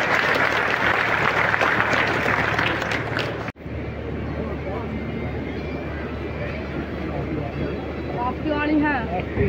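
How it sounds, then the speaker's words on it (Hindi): Crowd applause at a Kalki Jayanti gathering at Shri Kalki Dham, loud and dense, then abruptly cut to a quieter outdoor din with a voice and whistling in the background. "एक बार और जोरदार तालियां।"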